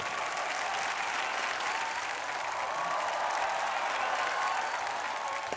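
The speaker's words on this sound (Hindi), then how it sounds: "जोरदार तालियां हिंदुस्तान की टॉप जुड़वा जोड़ियों को।" A television studio audience gives loud, continuous applause with crowd noise for twin pairs on stage, an unbroken dense wash of clapping.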